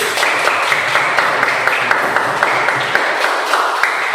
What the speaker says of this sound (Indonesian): Tepuk tangan untuk Mas Adit